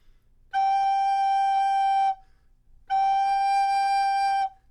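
Two sustained recorder notes on the same steady pitch, a G, each about a second and a half long, separated by a short pause, with gentle tonguing breaks within the tones.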